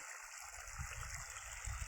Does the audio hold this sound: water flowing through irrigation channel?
yes